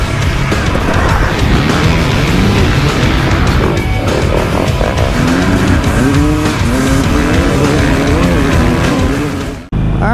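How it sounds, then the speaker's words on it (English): A Harley-Davidson Sportster motorcycle being ridden: a loud, steady engine roar with rising and falling pitch as the rider shifts, continuous for about nine seconds before cutting off abruptly. "I'm on a Harley Davidson Sportster."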